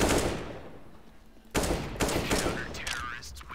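Glock pistol fire in Counter-Strike comes as a burst of sharp, close shots in quick succession after a quieter opening, with faint game ambience around them.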